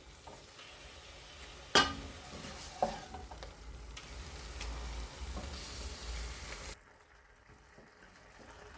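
Spinach and mutton being stirred in a cooking pot, with a soft sizzle and scraping under a couple of sharp clinks of the spoon against the pot, close by, fading out near the end.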